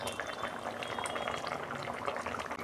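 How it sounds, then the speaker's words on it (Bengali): A pot of bhola fish curry bubbles on the stove, quiet dense popping and simmering with a continuous soft liquid texture, close but low in level, no talk. "দু মিনিট ফুটুক, তারপর আমি নামাবো।"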